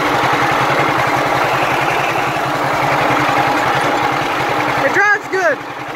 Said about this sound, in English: that's how you drive a two-cylinder John Deere